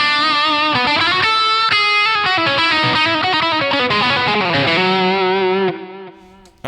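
Fuzz guitar run through the Overloud TH-U amp plugin plays a loud, dense run of distorted chords and notes with chorus-like shimmer, ending on a sustained tone that fades out.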